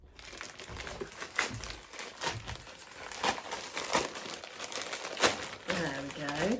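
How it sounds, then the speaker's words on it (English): Fabric gift package from a haberdashery being unwrapped: crisp crinkling and crumpling of wrapping paper in irregular bursts, close and fairly quiet, with a voice briefly heard near the end. "So I thought I would open my Christmas Day Hollis Haberdashery gift."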